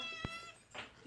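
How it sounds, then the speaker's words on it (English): Pet cats at home mewing as they come running, two short separate meows, the second brighter and longer, faint against a quiet room. "All the cats come running."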